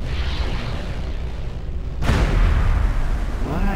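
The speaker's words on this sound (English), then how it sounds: "Plasma torpedo." A plasma torpedo detonates in a space combat game, a sudden loud blast that swells out of a steady ambient rumble and rolls on with a heavy, roaring tail.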